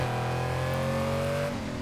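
Lamborghini Countach engine in the Need for Speed Heat racing game, a sustained high rev with a steady droning tone that shifts slightly in pitch near the end, loud and continuous with no talk.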